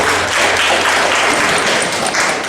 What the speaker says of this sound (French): On peut applaudir les deux femmes ce matin.